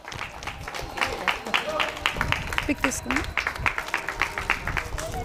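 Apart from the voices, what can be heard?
audience clapping at a prize giving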